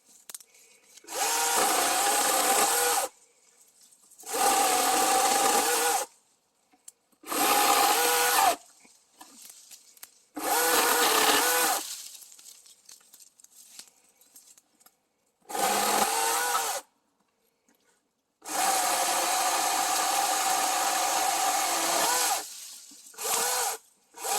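A cordless electric chainsaw whirs in about seven long bursts, some several seconds each, with short silent gaps between them, loud and close, and no talk.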